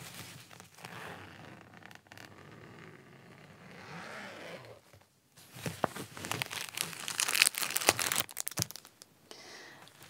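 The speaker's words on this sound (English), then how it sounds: "but it's very crinkly. It's a perfume dispenser, and I've never used it" Crinkly plastic packaging around a perfume dispenser is handled close up, with soft rustles early on, then louder sharp crinkling and crunching bursts in the second half, no talking.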